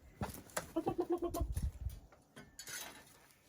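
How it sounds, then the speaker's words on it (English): A bird, apparently a chicken, calls near a garden bucket of crushed eggshells, a run of short clucking notes over scuffing and tapping sounds, with no talk. "Watch out, bird."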